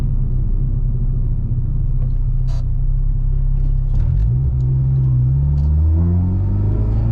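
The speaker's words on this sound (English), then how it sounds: "This is just in cabin straight induction noise." Intake induction noise fills the cabin of a Hondata-tuned Honda with the windows up. A loud, low rumble holds steady, then climbs in pitch as the engine starts revving harder toward the end.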